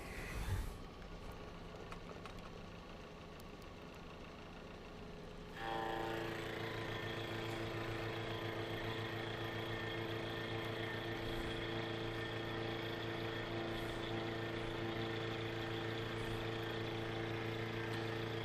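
A manual milling machine squares up a block with cutting fluid, taking light passes: a low rumble gives way to a steady, close, droning motor hum with a fine rattling texture.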